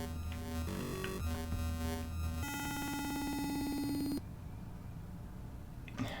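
Electronic sounds from the arcade game Qix blare in a jumble of synthetic tones, then a sustained buzzing beep cuts off into quiet.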